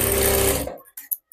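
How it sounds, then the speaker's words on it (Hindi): Close, loud sewing machine run stitching a strip on a full-sleeve tucked blouse, whirring steadily for just over half a second before stopping abruptly, followed by a few small clicks. "अब यहाँ पे मैं पट्टी की तरफ एक सिलाई लगा रही हूँ।"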